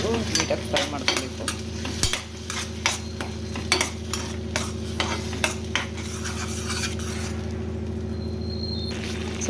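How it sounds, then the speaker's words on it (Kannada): Ground tomato puree frying with ginger-garlic paste in a pan: close, rhythmic spatula strokes scrape over a steady sizzle, quick at first, then easing into a smoother hiss toward the end, with no voices. "ರುಬ್ಬಿರುವಂತಹ ಟೊಮೆಟೊ ಪ್ಯೂರಿ, ಇದು ಹಸಿ ವಾಸನೆ ಹೋಗೋವರೆಗೂ ನೀಟಾಗಿ ಫ್ರೈ ಮಾಡ್ಕೋಬೇಕು."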